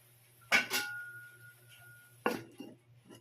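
A lid is set onto a cooking pot of bitter gourd, producing two close metallic clanks with a short ringing tail, then a second clatter a moment later.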